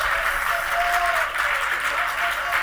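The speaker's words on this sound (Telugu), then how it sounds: "అందరూ కూడా చప్పట్లు కొట్టి స్తుతించి నన్ను నింపు ప్రభు అని అడగండి" A church congregation claps continuously in praise, a dense, even roar of many hands held at a strong level throughout, with a faint voice underneath.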